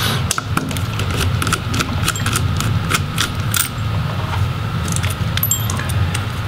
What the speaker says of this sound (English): So we'll go ahead and remove these small retainer screws.